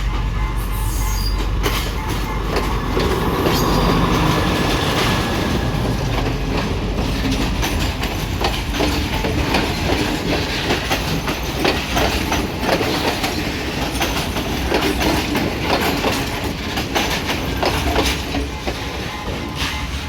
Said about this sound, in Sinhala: ඔන්න බලන්න දැන් එනවා කෝච්චිය.